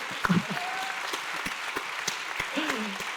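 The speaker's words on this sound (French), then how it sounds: "Alors applaudissez-les" An audience claps steadily throughout, a sustained round of applause for contestants at an agricultural awards ceremony, with a few voices briefly audible.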